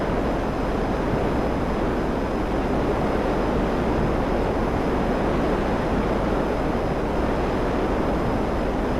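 Steady, loud broadband roar of a fixed-wing airplane in flight in GTA 5 on PC, continuous and unchanging throughout with no voices.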